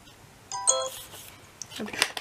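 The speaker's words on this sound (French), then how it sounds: "Je suis désolée, mon téléphone, il arrête pas." A short electronic notification chime rings out, followed by faint clinks and a bit of quiet background activity.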